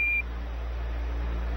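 Apollo 11 lunar module master alarm during the 1201 program alarm on the lunar descent: a single short, thin electronic tone at the start over steady radio hiss and hum.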